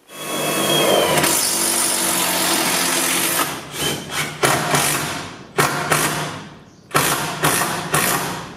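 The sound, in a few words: power drill driving a screw into a battery rack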